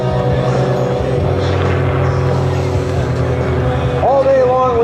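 An aerobatic airplane's IO-540 engine, producing over 330 horsepower, drones loudly and steadily as the plane pulls out of the bottom of a loop at an air show, rising in pitch near the end while an announcer talks over it.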